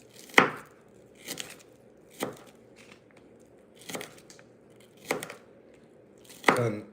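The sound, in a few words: chopping onions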